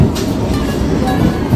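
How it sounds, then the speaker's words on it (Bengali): A train pulls in alongside a crowded station platform in Kolkata, a steady low rumble of wheels and rail noise filling the scene throughout, close and fairly loud. "পিছনেই ট্রেন ঢুকে গেছে"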